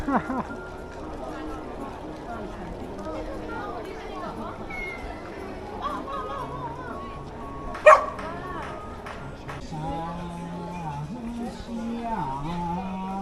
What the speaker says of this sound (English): Look at the 2 dogs.